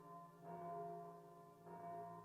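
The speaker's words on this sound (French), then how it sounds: "Les cloches retentissaient" Church bells ring out in two soft, distant strikes, each leaving a sustained metallic hum that slowly fades before the next toll.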